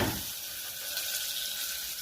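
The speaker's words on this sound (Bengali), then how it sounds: "ভাজা হোক গোল্ডেন ব্রাউন করে," Potatoes and papaya fry in hot oil for a Bengali mutton curry, giving a soft continuous sizzle, steady and close, with no voices.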